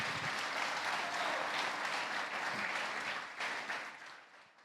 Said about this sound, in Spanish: Denle un aplauso a Jesús en esta noche